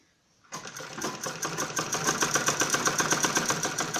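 Sewing machine stitching a curved seam on an apple-cut kurti, starting abruptly after a near-silent moment and running with a rapid, steady mechanical clatter that builds slightly in loudness, no voices.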